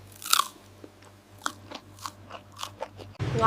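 A crunchy bite of street food in Hanoi, a loud crisp crunch followed by several softer chewing crunches, close up over quiet background hum.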